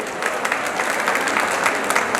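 Wedding guests applaud for the studio, steady dense clapping from a crowd throughout, fairly loud with no voices on top.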